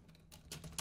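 Code being typed on a computer keyboard during Unity programming: a short, quiet burst of a few close key clacks, with no voice over it.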